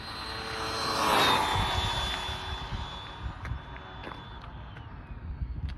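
An Arrma Big Rock RC truck with its stock motor on a 3S LiPo tears past at full throttle, a loud high-pitched electric whine swelling to a peak as it nears, then fading into steady motor and tire noise.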